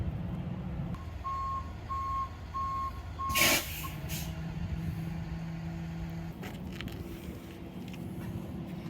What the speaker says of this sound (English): I'm gonna bring the bed back a little further, tip it down.